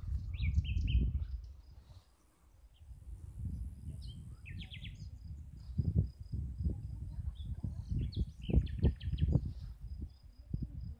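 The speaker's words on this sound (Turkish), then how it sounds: "Şimdi biraz da kuş sesi dinletelim." Small birds chirping and trilling in short bursts in a garden, fairly faint and distant, over low rustling and handling noise from the ground.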